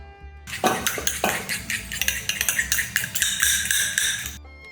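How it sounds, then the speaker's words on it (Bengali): Boiled green chillies are strained for a Rajasthani achari mirch, with close, loud clattering and clinking of metal utensils and a strainer in quick irregular knocks, a brief watery rush near the end, no voices. "আচ্ছা, এবার আমি লঙ্কাটা ছেঁকে নিচ্ছি।"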